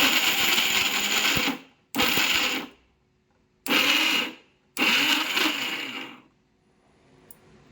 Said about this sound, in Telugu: చక్కగా నేను మిక్సీలో వేసుకొస్తా మెత్తగా నీళ్లు పోయకుండా మీరు తిప్పుకోండి